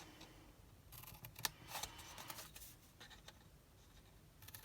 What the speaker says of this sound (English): that long bit I just like to get straight, so I use the trimmer